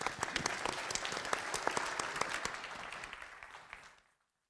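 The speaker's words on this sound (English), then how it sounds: "Big applause to the panelists." An audience at a space industry conference applauds panelists, giving a dense, steady burst of many hands clapping that fills the room. It holds for about four seconds, then fades quickly to silence.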